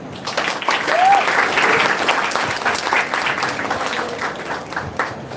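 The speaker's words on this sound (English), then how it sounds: "With a round of applause, please." Audience applause at a quiz event, a dense, steady wash of clapping that holds for the full five seconds at close range, with some murmuring mixed in.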